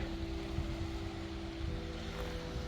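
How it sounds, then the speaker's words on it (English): Water washes steadily at a beach on Bermuda, a continuous broadband rush with a low rumble underneath and faint wind, no voices, unchanging in level throughout. "Hear the water?"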